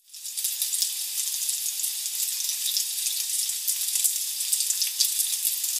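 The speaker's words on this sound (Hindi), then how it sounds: "अब हम लोग इसे भी थोड़ा सा फ्राई करेंगे।" Ingredients for chicken macaroni frying in a pan give a steady, fairly quiet sizzle that starts abruptly and holds evenly throughout, with no voices.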